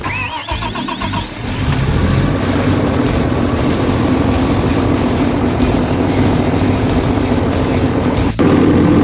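Caterpillar D6N dozer diesel engine cranking briefly, then firing up and settling into a loud, steady idle rumble that continues close by.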